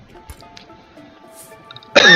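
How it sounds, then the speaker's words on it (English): A single person's cough, loud and close, bursts out near the end after a quiet stretch of faint background sound. "I had a cough."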